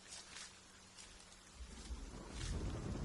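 Steady rain falls in a broadband hiss, joined by a low rumble like distant thunder that swells toward the end, with no voices.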